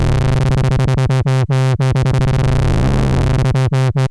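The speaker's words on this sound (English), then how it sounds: "you play with LFO rate to get LFO modulated sound" A Serum synthesizer patch with LFO rate modulation throbs as a loud, buzzing sustained tone. Its fast repeating chops speed up and slow down across the four seconds, with no voice over it.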